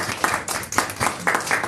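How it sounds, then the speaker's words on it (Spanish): Short burst of congregation clapping during a Spanish-language church sermon, a few loose rhythmic claps spread over under two seconds at moderate level. "Dale un fuerte aplauso a nuestro Señor Jesucristo."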